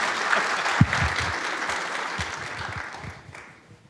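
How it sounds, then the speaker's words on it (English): An audience claps at a volunteer awards and recognition event, the applause starting loud and dense, with a few louder claps close by, then tapering off toward the end. "And you could applause. You could applause."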